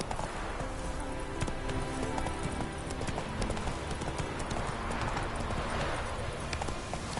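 The horse Roach gallops in The Witcher video game, a fast, steady clip-clop of hooves close up with rustling ambience, sustained throughout without pause.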